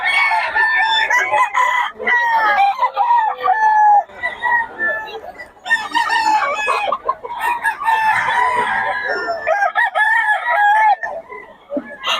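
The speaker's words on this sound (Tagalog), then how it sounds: "25 lang mga manok ni Boss Randy ngayon" Many roosters crow over and across one another, mixed with clucking hens, a loud, continuous flock chorus close by with a few voices in the background.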